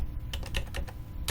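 Arrow keys on a computer keyboard pressed in a short series of quick, light clicks, fairly close and clear, with a pause before a final tap.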